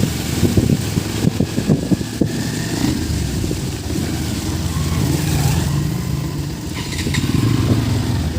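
An off-road motorcycle engine roars loud and close while riding through a water crossing, with steady wind buffeting the microphone and some splashing throughout.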